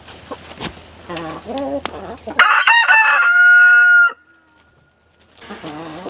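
A rooster crows loudly and close by, a long strained call, while hens cluck softly before and after.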